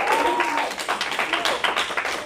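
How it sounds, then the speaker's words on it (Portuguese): A church congregation claps briefly for Pastor Sidney, a fairly faint, loose patter of hands with a sustained tone running underneath. "Salva de palmas pela vida do pastor Sidney."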